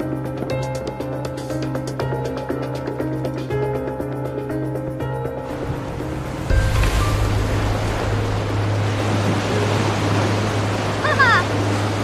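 Seaside surf washes in a continuous rushing roar, growing louder and fuller midway through as a wave surges, with a faint wind-like hiss and some boat-like noise over the water.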